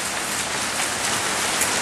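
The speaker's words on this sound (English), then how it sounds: "we just got the first lot of rain coming and the first gust of wind will arrive" Steady, close rain hisses evenly as the first rain and gusts of wind arrive around midday at the bottom end of the Yar, with no voices.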